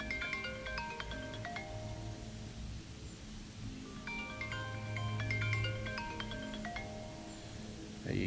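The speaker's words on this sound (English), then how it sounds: "Y'all excuse the phone ringing." A phone rings beside a pond or creek in a repeating electronic pattern, two clear bursts separated by a pause, moderately loud over quiet outdoor background.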